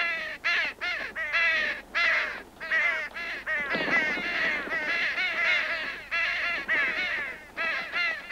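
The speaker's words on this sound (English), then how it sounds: "Signaled by the raven's hungry clamor, the time of the scavenger has come." Ravens call in a hungry clamor of scavengers in winter wilderness, with harsh overlapping caws and croaks coming in dense, continuous bursts from a flock close by.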